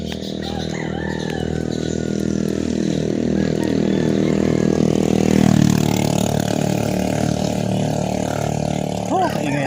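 A motor engine runs steadily nearby with a throbbing idle, rising slightly in the middle, while a voice speaks over it.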